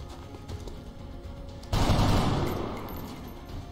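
Gunfire breaks out in XCOM Long War, at first a scattering of muffled shots over a low background. Then a loud, sudden burst of rapid fire hits and fades slowly over the next couple of seconds.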